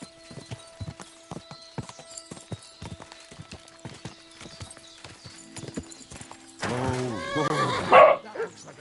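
Spooked horses in the game Kingdom Come Deliverance 2, hooves clip-clopping in a quick uneven rhythm, then a loud, close, drawn-out neigh near the end; a dog-like bark and faint voices mix in briefly.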